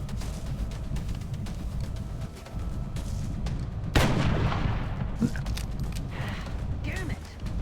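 A sniper rifle shot fires in the turn-based strategy game XCOM Long War, a single sharp loud burst amid a dense rumbling battle soundscape, with a person speaking alongside.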